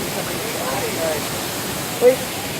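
Broad steady rush of Tinuy-an Falls, a continuous wash of water noise filling the scene, with faint voices in the background.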